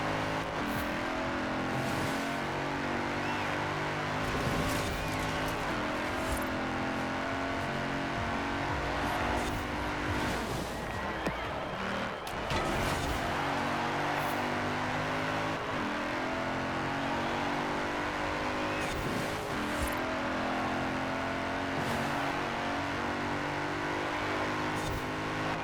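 Mercedes-Benz AMG Hammer Coupe in Forza Horizon 4 online racing, its engine droning and revving continuously through gear changes, with occasional tire squeal and wall scraping, loud and steady throughout.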